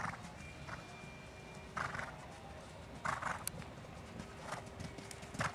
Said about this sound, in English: There's a horse coming.